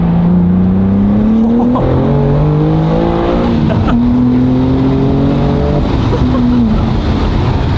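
A BMW G87 M2 pulling hard in second gear, its intake and engine note rising in strong, loud sweeps with quick shifts between, close and continuous for several seconds, with interior road noise underneath.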